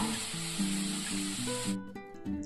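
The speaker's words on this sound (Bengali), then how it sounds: "সব সবজিগুলোকে একসাথে দিয়ে খানিকক্ষণ নাড়াচাড়া করে নিচ্ছি" Vegetables sizzle and hiss in a hot frying pan as they are stirred together for a vegetable cutlet, a quiet, steady frying hiss that cuts out near the end, with faint background music.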